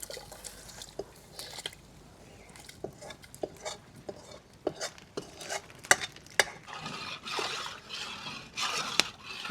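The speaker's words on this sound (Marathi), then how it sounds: "मसाला परतलेला टाकून घेणार आहे" A spoon stirs and scrapes through a pot of dal as fried spice mix is added, with scattered clinks and soft wet sizzling, close by and fairly quiet, cooking over a wood-fired clay stove.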